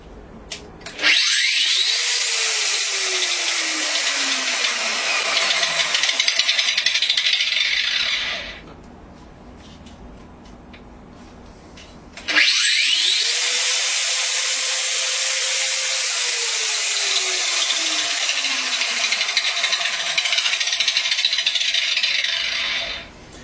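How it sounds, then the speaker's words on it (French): A benchtop metal-cutting disc saw starts up twice, each time building speed gradually into a loud, steady whir that runs for several seconds before winding down, with a quieter pause between the two runs. "le disque démarre, il démarre pas plein tube, hein, il accélère progressivement"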